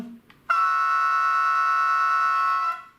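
Model locomotive on a layout sounding two horns at once: a single sustained, loud, bright chord held steady for about two seconds, then cut off with a faint hiss trailing after.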